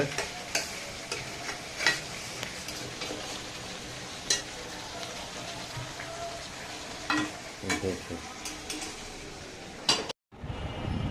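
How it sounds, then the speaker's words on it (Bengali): Meat stirred in a pot on the stove: steady frying sizzle with repeated scraping and clattering strokes of a spoon against the metal, fairly close, ending in a brief cut of silence and a short burst of noise. "মাংস নাড়ে চড়ে দিচ্ছে"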